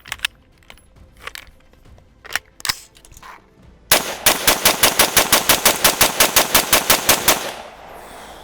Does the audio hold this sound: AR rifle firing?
yes